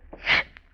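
A single short, sharp sneeze bursts out close and fairly loud, with a brief breathy intake before it and quiet afterward, in an old radio mystery drama.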